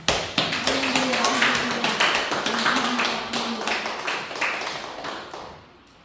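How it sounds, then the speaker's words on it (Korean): Korean church congregation clapping during the first Sunday service in a new sanctuary, a loud, rhythmic, fairly steady clapping in unison from a sizable group, with a low hum or voice underneath, tapering off near the end. "주님께 영광의 박수를 먼저 올려드립시다."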